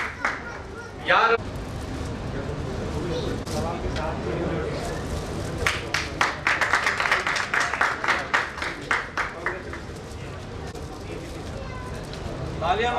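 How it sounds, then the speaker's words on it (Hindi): A crowd claps at a foundation's founding-day celebration, with the applause swelling into crisp, rapid bursts midway before fading, while someone talks over the room noise. "तालियां मारते रहिए सभी के लिए"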